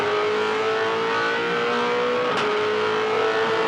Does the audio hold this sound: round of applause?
no